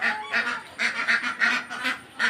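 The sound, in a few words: ducks calling on a duck farm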